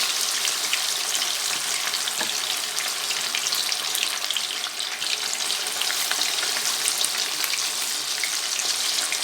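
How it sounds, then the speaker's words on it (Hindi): Chicken deep frying in hot oil for a restaurant-style fry roast, a loud, dense, unbroken crackling sizzle that stays steady throughout. "इनको हमने डीप फ्राई करना, वेरी बी केयरफुल।"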